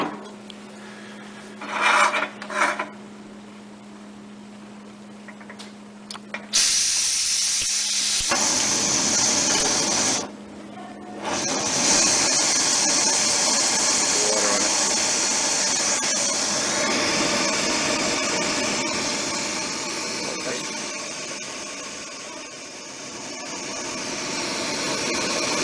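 A white gas (liquid naphtha) camping stove burns in winter conditions, its steady, loud roaring hiss starting after a few quieter scrapes and brief gaps, then holding constant and close up.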